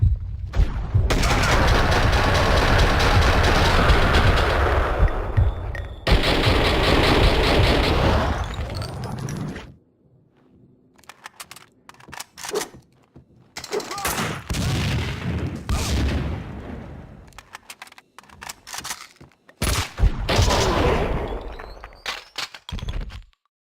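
Max Payne 2 video game gunfire comes as dense, loud bursts of rapid shots and booms, followed by sparser volleys and single shots separated by quieter gaps.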